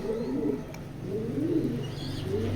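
A white racing pigeon coos in soft, rolling repeated phrases, fairly close and steady, with faint chirps in the background and no talking.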